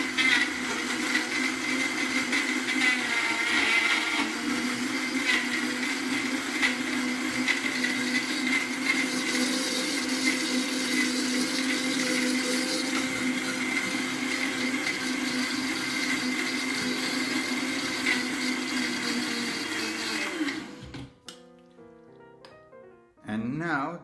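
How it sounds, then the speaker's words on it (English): A blender crushes ice for a mango cocktail, a steady loud whirring grind running for about twenty seconds before cutting off abruptly. "it's important to use a good blender for this"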